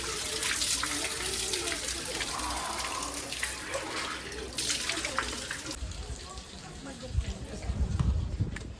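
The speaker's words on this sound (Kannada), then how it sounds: "ಇದು 24 ಗಂಟೆ ಟೈಮ್ ಕೂಡ ಬರ್ತಾ ಇರುತ್ತೆ ನೀರು" Holy spring water of Bhagiratha Tirtha in Dakshina Kannada runs continuously, a steady close splashing flow like a tap, with people talking over it.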